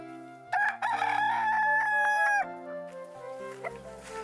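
On a farm a rooster lets out one loud, drawn-out crow, followed by softer clucking from chickens nearby; no voices are present.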